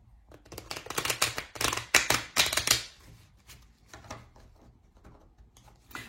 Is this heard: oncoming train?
no